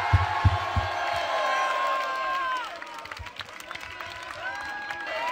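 A crowd at a live freestyle rap show applauds and cheers the local rapper Joserra, with scattered whoops over clapping; the noise swells early, then thins slightly but keeps going to the end.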